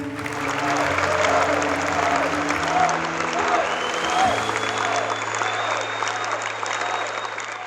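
An audience at a Unifor union convention applauds loudly for Buzz Hargrove, a sustained roar of clapping with crowd noise and a droning tone underneath, holding steady throughout.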